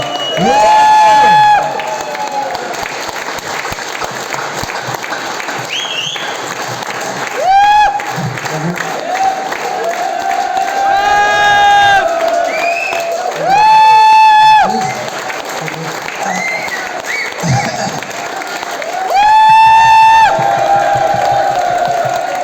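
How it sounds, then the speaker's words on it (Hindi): Audience at a business success seminar applauds and cheers, a broad crowd wash with swelling bursts around several moments, while a presenter talks over it through a loudspeaker. "जोरदार तालियां।"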